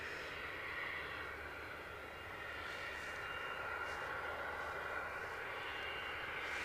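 A British Airways A321neo inbound to Edinburgh Airport from Heathrow gives a steady, distant engine roar with a broad hiss, holding at an even level throughout, alone without talk.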